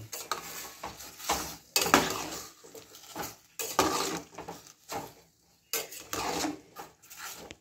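A spoon scrapes and clatters in a metal pot as raw mango is stirred with salt, in several bursts of knocking and scraping separated by short pauses, close and fairly loud.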